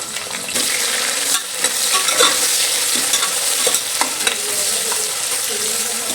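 Onion, garlic and green chilli frying in a pan for tomato rice while being stirred, a loud, close, continuous sizzle with scraping stir strokes and no speech.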